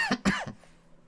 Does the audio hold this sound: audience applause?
no